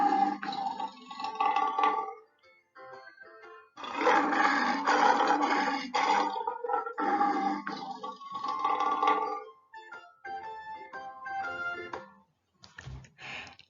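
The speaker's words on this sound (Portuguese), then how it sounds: "Que animal que vocês acabaram de ouvir? Muito bem, o leão" A lion roars in a series of deep, rough, drawn-out calls separated by short silences, loud and clear with nothing else heard.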